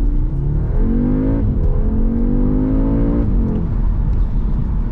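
A 2021 Audi S3 with quattro four-wheel drive accelerates hard on a wet road, engine note climbing loud and close through two gear changes, with no talk over it.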